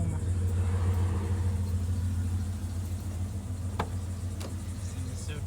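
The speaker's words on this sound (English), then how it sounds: "Take the van for a ride home." Van driving home on the road, a steady low engine drone near and fairly quiet, fading slightly over the few seconds with a couple of faint clicks and no talking.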